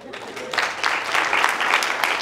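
An audience at a social media marketing conference breaks into applause that starts thin, then swells into steady dense clapping for the remaining couple of seconds.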